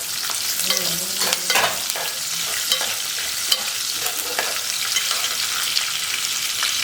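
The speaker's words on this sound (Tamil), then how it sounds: "நான் இப்போ வந்து வெங்காயம் போட்டுக்கிறேன்" Onions and curry leaves fry in hot oil for a Chettinad raw jackfruit gravy, giving a loud, steady sizzle with crackles and stirring scrapes throughout, and no talking.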